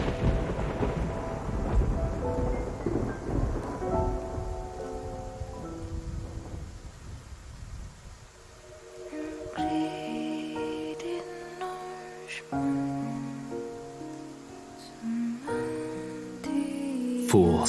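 A stormy sea scene in the video game Love and Deepspace: rumbling thunder and heavy rain wash over the opening, then fade as tonal game sounds and chimes take over.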